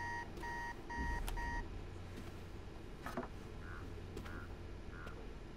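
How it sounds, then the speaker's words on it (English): An alarm in Marvel's Spider-Man 2 beeps in a faint, quick repeated pattern over a low room hum, followed by a few softer electronic chirps, with no talking. "How long has that been going off?"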